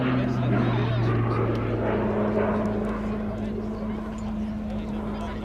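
Texan T1 training aircraft flying past at a Cosford airshow, a steady droning propeller engine hum with a strong low tone, loud and continuous, while an announcer talks over it.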